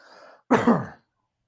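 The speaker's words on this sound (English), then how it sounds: "I'm going to cough." A single close, harsh cough of about half a second, split into two quick bursts, preceded by a faint voice murmur and followed by silence.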